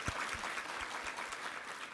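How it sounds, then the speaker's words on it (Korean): Church congregation applauding at a Korean worship service, a steady wash of clapping from many hands through a sanctuary, moderately loud and continuous with no voices over it. "우리 하나님께 감사와 영광의 박수 올려드리겠습니다."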